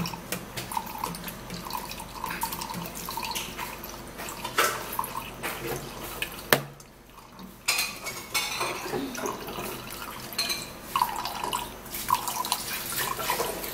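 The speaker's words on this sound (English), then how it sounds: "So I'm gonna be sieving this" Juice drains through a sieve in a steady, wet trickle with occasional drips and light clinks of the bowl, close and fairly loud, pausing briefly midway before resuming.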